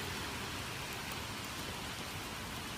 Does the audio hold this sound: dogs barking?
no